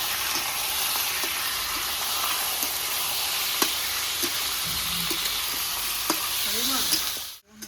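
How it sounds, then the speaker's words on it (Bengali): Chicken pieces frying with garlic in a pan give a steady, close sizzle, with scattered stirring clinks and scrapes, before the sound cuts out abruptly near the end. "তো বন্ধুরা ধুয়ে রাখা চিকেনটা দিয়ে দেবো এর উপরে। রসুনের কাঁচা গন্ধটা চলে গেছে।"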